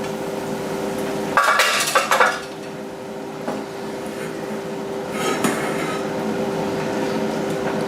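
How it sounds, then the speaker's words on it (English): Browned ground meat is dumped into a metal strainer to drain off the fat. It makes a couple of clattering metal scrapes and clinks up close, then quieter taps over a steady background hum. "take a strainer and dump it into the strainer, and the fat will be separated"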